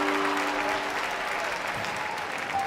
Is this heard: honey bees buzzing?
no